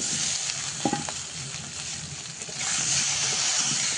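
Eggplant slices frying steadily in a pan, a continuous close hiss of sizzling oil with a brief clink of a utensil partway through.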